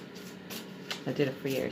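Tarot cards being shuffled by hand in a quiet indoor setting, giving a few soft papery riffles and slaps that grow busier toward the end, with a low voice murmuring underneath.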